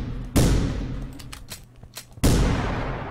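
Two heavy gunshots in The Final Station game, each a loud, close boom with a decaying tail, about two seconds apart, with faint clicks and rustles between them and no talking.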